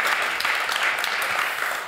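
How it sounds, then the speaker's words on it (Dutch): A live audience at a public talk in Amsterdam gives a warm round of applause, dense, steady clapping throughout that tapers slightly at the end. "Geef een warm applaus,"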